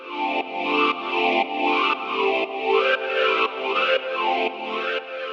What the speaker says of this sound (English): Keep the dot along the bottom outer edge for maximum emphasis, so we can hear the obvious voice-like effect.